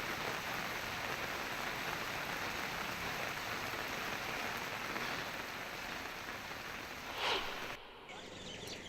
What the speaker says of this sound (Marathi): गेल्या 2 दिवसांपासून नांदेड जिल्ह्यामध्ये दमदार पाऊस बरसतोय